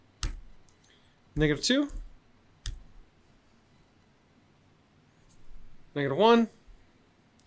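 Values typed into a calculator table make sharp key clicks, a few isolated single presses between spoken words, with someone talking close by.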